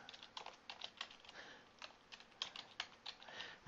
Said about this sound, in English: I'll type in its name